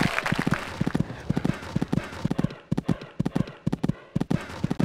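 Horse hooves thud in quick irregular clusters as a horse gallops and clears fences in the riding game Equestriad 2001, close and crisp with brief pauses between strides.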